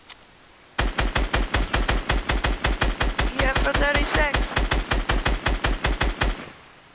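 Automatic gunfire in the Fortnite video game rattles as a long, loud, rapid burst of evenly spaced shots lasting about six seconds, with a voice briefly speaking underneath partway through.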